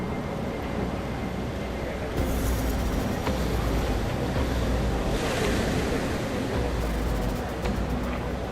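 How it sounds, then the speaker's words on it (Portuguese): Storm waves and howling wind on the Arctic Ocean around a ship at sea, a steady loud roar of surf and gusts with surges of spray throughout. "Uma tempestade no Oceano Ártico."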